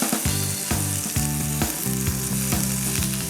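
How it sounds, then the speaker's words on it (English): Mushrooms and garlic sizzling in a pan, a loud close crackling fry broken by repeated rhythmic scrapes and taps of a utensil stirring, with no talking. "And then give all this a nice stir to get it cooking together."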